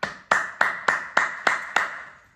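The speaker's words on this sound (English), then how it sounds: "clap" Seven sharp hand claps at an even, brisk rhythm during a yoga breathing exercise, each a crisp close slap that decays quickly, with no talking.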